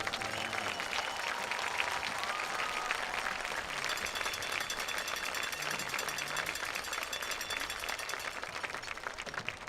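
Broad, sustained applause and crowd roar echo through a large open space, steady and loud throughout without a break.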